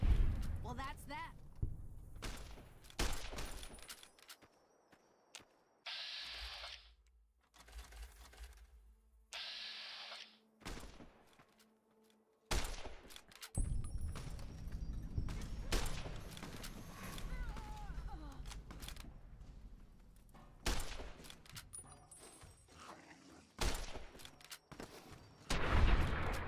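Gunfire in the video game Fallout New Vegas, several loud bursts of shots mixed with game noise, with pauses and talking over much of it.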